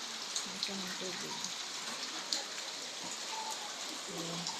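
Steady rain falling outdoors during a flood, an even dense patter that fills the whole stretch, with faint bird calls and occasional voice sounds in the background.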